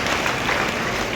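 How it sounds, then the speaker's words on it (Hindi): Applause from an audience at a felicitation ceremony for meritorious girl students at an ashram, a dense steady patter of clapping hands sustained throughout, fairly close and without speech. "एक बार जोरदार ताली बजाते हैं"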